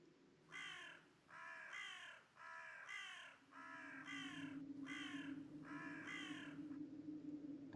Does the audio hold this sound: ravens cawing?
yes